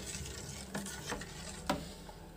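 Curry leaf, green chilli and ginger juice being stirred into a mixture for a festival offering, with soft scraping strokes and a few sharper clinks of a spoon against the vessel, fairly quiet and without talk.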